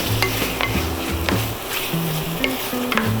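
Shrimp sautéing in a pan with chayote gives a steady close sizzle, with light scraping stirs and a few utensil clicks against the pan.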